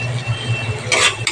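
Rajma dal being gently stirred in a cooking pot, with low scraping swishes, soft clinks of the spoon against the pot, and a brighter scrape near the end, close and moderately loud with no talking.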